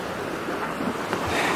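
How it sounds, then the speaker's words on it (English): Pacific Ocean surf washes against a rocky Oregon shore lined with big, pointy rocks, a steady rushing roar mixed with wind buffeting the microphone, with no voices. "Yeah, this is the ocean right here."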